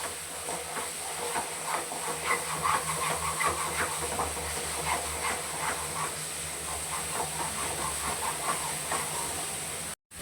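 Masala sautéing in oil in a pan, a continuous hissing sizzle with soft stirring scrapes, close and steady, cutting off abruptly at the end.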